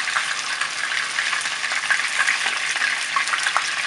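Catfish searing in a pot for Cambodian sweet and sour soup, a continuous bright sizzle and crackle of hot oil, close and steady throughout with no talking.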